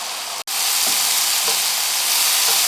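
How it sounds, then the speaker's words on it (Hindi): Masala paste of tomato, ginger and garlic frying in oil for chicken, a loud close sizzling hiss that cuts out for an instant and then resumes steadily with occasional soft stirring scrapes. "बस ये 5-10 मिनट तक आप भूनिए इसे, जब तक तेल छोड़ नहीं देता।"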